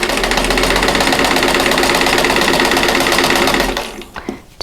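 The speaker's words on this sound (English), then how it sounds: "you're either sewing directly on that drawn line or just to the right of it" A sewing machine runs at a steady, fast whir, stitching along a drawn line on a quilted Christmas bauble block for nearly four seconds before stopping, followed by a few faint handling clicks.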